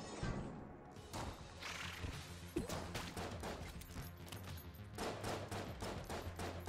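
Rapid bursts of video game gunfire in Enter the Gungeon, a steady stream of sharp shots overlapping in dense volleys with a louder crack partway through, heard alone.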